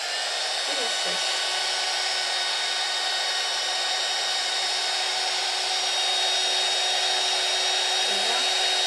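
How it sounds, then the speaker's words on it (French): A heat gun dries liquid watercolour paint with a steady, unbroken blowing hiss that stays loud and even from start to finish, with no other sounds rising above it. "on reprend le heat gun et on sèche"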